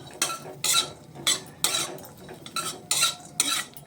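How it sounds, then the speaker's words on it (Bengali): Raisins dry roasting in a kadai, stirred in quick bursts that rattle and scrape against the metal in a loose rhythm, close and fairly loud with no talking. "এখন আমি কড়ার মধ্যে দিয়ে দিচ্ছি এই যে কিশমিশের একটু শুকনো কুলাতেই বেজে নিচ্ছি"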